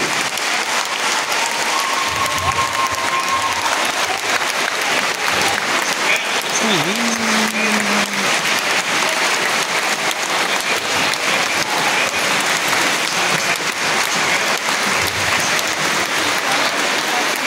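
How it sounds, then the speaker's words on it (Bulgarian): A theatre audience applauds steadily, a continuous dense patter of clapping that holds level throughout, with faint voices and brief tones surfacing now and then beneath it. "Аплодисменти!"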